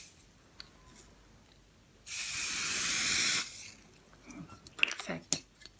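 Hair-product spray released at arm's length in one steady hiss of about a second and a half, with quieter handling sounds before and after.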